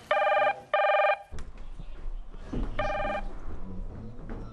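A telephone rings in an office-style setting: two loud, close electronic ring bursts in quick succession, then a stretch of room noise and shuffling, and a third ring burst under the background.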